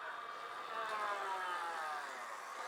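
An Energica Eva or Victory Empulse TT electric motorcycle whines steadily under way, a high electric-motor tone rising and falling slightly over a constant wash of road and wind noise.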